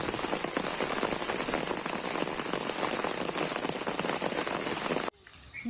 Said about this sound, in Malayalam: പെട്ടെന്ന് നല്ല മഴ പെയ്തു കേട്ടോ